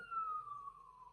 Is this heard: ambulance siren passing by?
yes